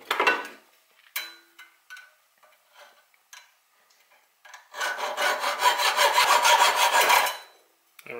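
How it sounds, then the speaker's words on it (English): Small strap being cut off at the base of a spark plug's retaining ring on a two-stroke engine, heard as several short rasping scrapes followed by a sustained, loud filing or sawing rasp lasting a few seconds, with no talk. "we're going to cut the little strap off at the bottom as well"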